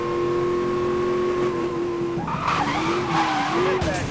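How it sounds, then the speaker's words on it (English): Dom's Dodge Charger in Need for Speed Most Wanted, drifting during a police chase, first holds a steady engine drone, then breaks into a loud, wavering tire screech as it slides. "Well, drift on there, not bad."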